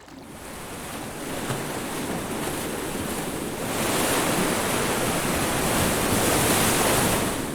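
Large ocean waves surge in a steady, loud roar of surf that swells stronger midway through, with wind blowing across the water and no voices.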